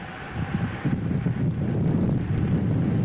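Jet engines on an alert aircraft spooling up aboard a carrier flight deck, a steady loud roar with broadband wind-like rush, continuous and close, no talk over it.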